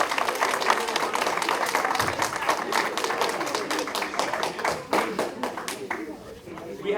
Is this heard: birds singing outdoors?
no